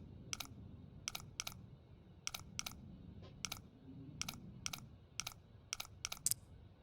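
A safe's combination dial in The Long Dark clicks sharply about a dozen times, in small uneven groups, over a low, steady background rumble with no talking.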